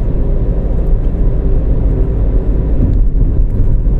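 Loud, steady traffic rumble on EDSA at Guadalupe, a continuous low roar of passing vehicles close by with no talking.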